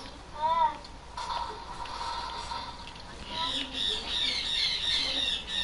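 Birds squawk in the Fortnite game, a few harsh calls and chirps over a quiet game background, with people talking now and then.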